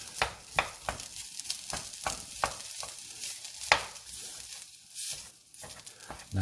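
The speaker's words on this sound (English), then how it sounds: "Nice sizzling, so we know it's going to be nice," Soft sizzling of rice frying in a pan broken by a series of regular scraping strokes, roughly one every half second, close by and fairly quiet.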